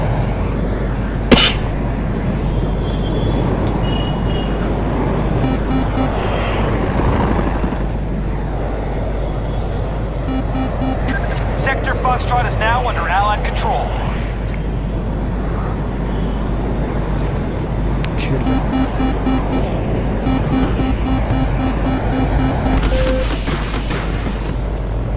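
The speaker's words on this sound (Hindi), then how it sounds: "जेट फ्लाइंग करना बहुत ही मुश्किल होता है" Steady, loud roaring drone of a fighter jet in a battlefield video game, continuous throughout with a constant low hum, faint electronic game tones and a brief sharp click near the start.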